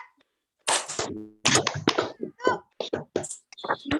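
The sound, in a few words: class clapping three times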